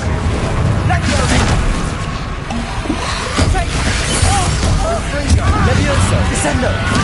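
Spell-casting combat in Hogwarts Legacy on PS5, a continuous barrage of booming blasts and crackling impacts with chaotic battle noise throughout.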